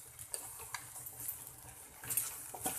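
Mutton mince dry-roasted over high heat in a pressure cooker, with a soft sizzle under faint scraping and clicking of a spoon stirring against the metal, quiet and close.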